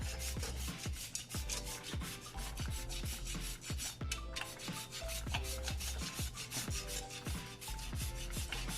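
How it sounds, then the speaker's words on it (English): Fresh whole nutmeg rasped on a grater for Jamaican cornmeal porridge, a quick run of short scraping strokes in an even rhythm, close and clear with no talking. "But I'm going to grate her fresh nutmeg here."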